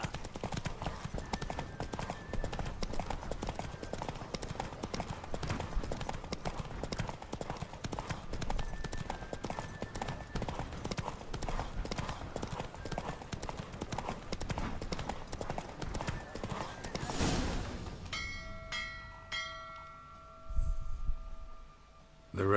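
Roach the horse gallops hard through a race in The Witcher 3, a dense, rapid clip-clop of hooves running steadily for most of the stretch before cutting off abruptly, with game music and a faint whinny left afterward.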